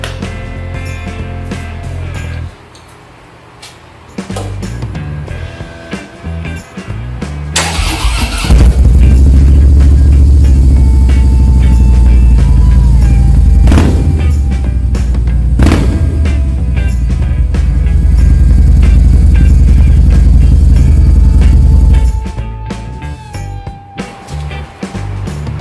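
A Harley-Davidson Fatboy motorcycle with American Custom slip-on exhaust starts, idles and revs, a deep, loud, rumbling engine sound close by, with a few sharp throttle blips before settling back to idle.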